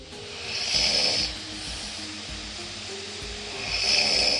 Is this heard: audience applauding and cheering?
no